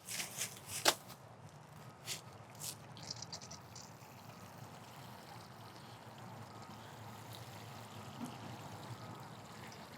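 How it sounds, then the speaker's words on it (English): Water poured from a can or hose onto a newly planted garden plant, making a steady, continuous trickling splash close by, with a few sharper taps near the start and no talking. "I'm going to go ahead and give it some water because that'll help it settle"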